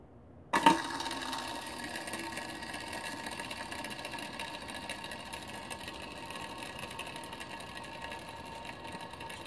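An aluminum and brass four-gear fidget spinner whirs up after a sharp flick, then keeps a steady, close mechanical hum with a faint rattling buzz that slowly eases, without any voices.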